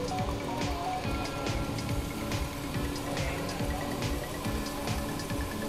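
Cleaner is sprayed steadily along both side edges of a dry, worn motorcycle chain so it soaks into the links, giving a continuous hissing, splashing spray with faint dripping, close and fairly loud throughout.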